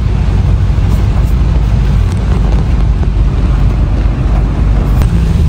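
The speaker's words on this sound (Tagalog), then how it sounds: "Ang lakas ng ulan." Strong wind and heavy rain batter a moving car in a constant, loud, dense rumble and hiss with a few faint knocks, with no voices.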